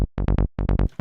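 Plucky Sylenth1 synth bass line from a psychedelic preset, mod wheel shaping its parameters: six punchy, evenly spaced notes in two groups of three with a short gap between, loud and close, no voices.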